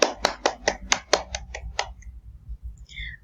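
A classroom of students claps for a classmate, about nine sharp, close claps in an uneven rhythm that fade out after two seconds, followed by faint chirpy sounds.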